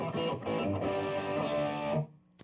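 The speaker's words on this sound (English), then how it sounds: "is more of a Marshall stack kind of a distortion" An electric guitar runs through a Visual Sound pedal set for a Marshall-stack-style distortion, playing a dense, gritty chord that sustains steadily for about two seconds and then cuts off abruptly, with no voices.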